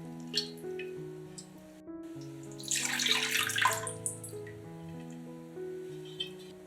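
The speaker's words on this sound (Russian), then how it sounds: "Наливаем в нее воду, ополаскиваем и сливаем." Water is poured into a cake mold, splashing and swirling for a few seconds as it is rinsed, then drains away, with soft background music playing throughout.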